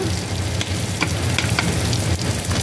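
Chopped onions sizzling in a hot pan with garlic, cooked as the start of a creamy chicken macaroni soup; a steady, close frying hiss with occasional crackles and stirring scrapes, no talking.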